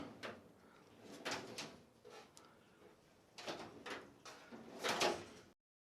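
Several drawers of a new Husky 56-inch 18-drawer tool chest soft-close in sequence, soft muted thuds and rolling glides close by, with no talking.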